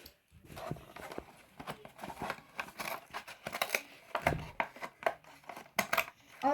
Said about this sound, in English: Oh, fine, use the scissors.